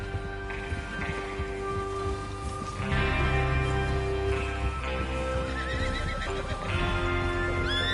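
Video game horses whinny several times, loud and close, over rhythmic hoof clip-clops and a soft ambient bed, with repeated neighs spread across the stretch.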